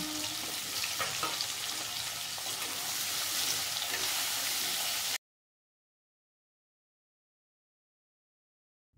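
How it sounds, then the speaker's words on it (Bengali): Potato pieces fry in oil seasoned with salt and turmeric, giving a dense, steady sizzle for about five seconds before cutting off abruptly into silence. "আমি এবার আলুর টুকরোগুলোকেও ভেজে নিচ্ছি"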